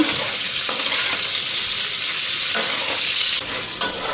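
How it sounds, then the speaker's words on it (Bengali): Loud, steady sizzling of cauliflower frying in hot oil, with a few scraping stirs of a utensil against the pan. "কপিটা ভালো করে ভাজা করে নিই"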